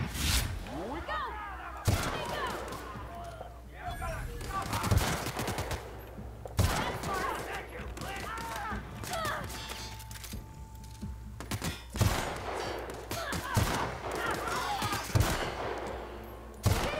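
Sniper rifle firing in the video game The Outer Worlds: several sharp, loud shots spaced a few seconds apart over a steady game background, with a voice talking between them.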